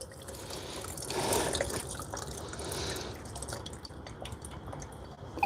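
Water splashing and trickling over loose tea leaves in a gongfu tea rinse on a rooftop in China, a steady soft pour with light drips, close and fairly quiet, alone without talk.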